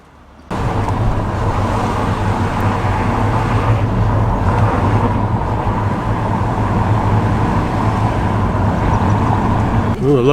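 A Ford GT40 replica sports car drives on a town street in Nantwich, Cheshire, during a classic and sports car run. Its loud, close engine rumble holds steady for about ten seconds with faint road noise around it.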